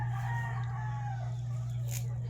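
A backyard flock of more than fifty chickens, chicks among them, clucks softly while a rooster crows faintly in the distance over a steady low hum.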